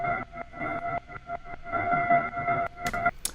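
A hovering synth pad, the verse intro pad raised an octave, sustains steady tones under a stuttering gated rhythm of short breaks, fairly quiet, with a brief bright noise burst near the end.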